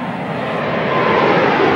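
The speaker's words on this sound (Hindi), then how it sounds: "इसके बाद इस नए जेट का फ्लटर टेस्ट होता है।" A new Boeing 747 jet flies at high speed during a flutter test, giving a continuous broad roar that swells slightly and holds steady throughout, with no talking.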